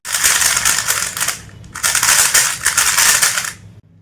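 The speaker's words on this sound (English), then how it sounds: "the sound of the cube has reduced drastically because this is how it sounded earlier" A 3x3 Rubik's cube is turned rapidly in two bursts of dense, loud clicking and crackling plastic, separated by a brief pause, close to the microphone.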